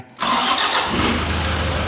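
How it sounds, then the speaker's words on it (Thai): 2002 Toyota Hilux Sport Cruiser engine starting after a short silence, catching at once and settling into a steady, loud, close idle rumble with no voices over it. "สตาร์ทเครื่องฟังเสียงด้วยแล้วกันนะว่าเสียงเครื่องคันนี้ยังดีไหม"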